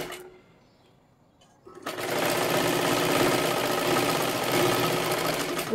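A sewing machine runs steadily, stitching silky, slippery fabric for a boat-neck katori blouse, a loud continuous whirring hum that starts after a quiet moment and carries on alone.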